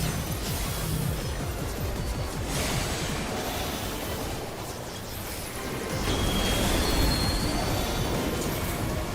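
Train cars rumble and clatter steadily along rails in Final Fantasy XIV, a dense rolling noise with a brief high squeal, continuous and fairly loud throughout with no talk.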